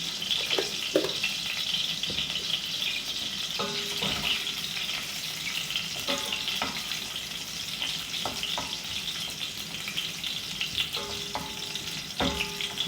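Food frying in a pan until golden for Egyptian koshari gives a steady, close sizzle that runs throughout, with occasional clinks and scrapes from stirring and no one talking.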